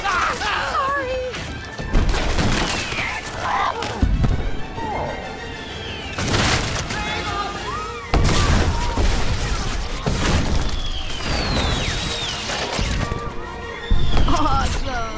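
Dragon eggs bursting in a series of loud, sharp explosions, several heavy crashing bangs spread across the span, mixed with screeches and excited voices talking over the chaos.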